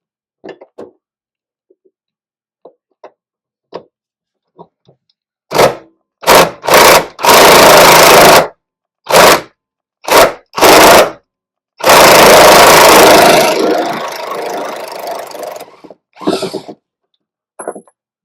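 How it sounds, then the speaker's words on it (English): An impact gun loosening bolts on an 8th-generation Honda Civic Si suspension: several short loud bursts of rattling hammering, then two long sustained runs, separated by silence and scattered faint clicks. "let's try the high impact gun and do it very slowly"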